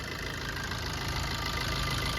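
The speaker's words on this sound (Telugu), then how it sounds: "ఇంజన్ నాయిస్ మీరు వినొచ్చు ఎంత స్మూత్గా ఉందో" A diesel Tata Zest engine idles close by, a continuous low rumble with an even, unchanging tone and no voices.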